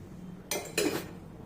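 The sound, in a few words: iron griddle (tava) being placed on the stove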